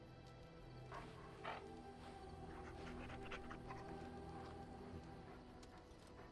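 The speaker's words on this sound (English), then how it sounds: "I love this dog." A dog in the video game Dragon Age pants and whimpers softly, with a few short yips, over a low, steady game backdrop.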